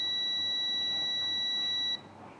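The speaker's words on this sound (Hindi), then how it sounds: "इसको हम चेक करते हैं, तो ये भी बीप साउंड देती है, ये देखिए।" A multimeter's continuity beep sounds while testing a mobile phone's matte black coil: one steady, shrill, close tone held for about two seconds, then cut off, leaving faint room hiss.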